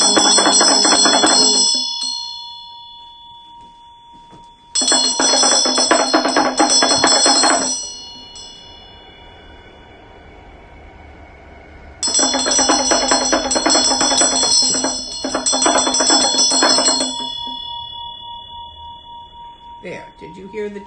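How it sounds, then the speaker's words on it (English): A handbell rung during a Buddhist spirit offering: three long bursts of rapid, bright metallic ringing separated by lingering, sustained tones, loud and close, with the pitch of the ringing shifting between bursts. "There, did you hear the change in the bell? That's when you know it's been received. The tone of the bell changes."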